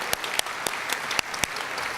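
An audience at a university staff forum applauds award winners, an even wash of clapping with several sharp, louder claps standing out near the front.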